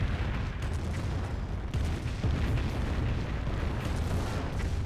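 A rocket artillery barrage in the World War II strategy game Company of Heroes rolls on as a dense, continuous rumble of overlapping booms and blasts, with a few sharper impacts standing out.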